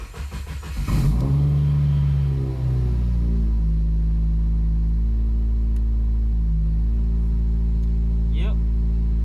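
A 2017 Subaru engine, suffering a cylinder 3 misfire, cranks briefly and catches, then settles into a loud, steady idle with a slight uneven pulse; a voice speaks briefly near the end.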